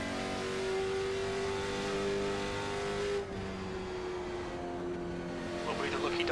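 A late model stock car in the iRacing sim holds a steady high engine drone that shifts slightly in pitch midway, with speech over it.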